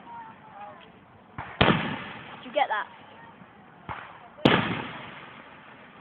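Carnival fireworks at Langer Park, recorded from across the water at Felixstowe, give two sharp distant booms with crackling tails over a low ambient bed, while people talk excitedly nearby.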